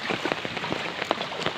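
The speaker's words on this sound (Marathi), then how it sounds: "सकाळचा रिमझिम पाऊस आणि सकाळचं वातावरण" Morning drizzle falls in a steady, close patter of raindrops on a hard surface, with no voices.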